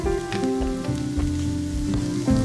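Onions sizzle in a pan with a steady, close crackle and hiss, while a low tonal hum and occasional stirring clinks run underneath and no one speaks.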